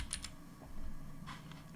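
Light typing on a computer keyboard, a few soft scattered keystrokes heard faintly and close against a quiet background with no talking.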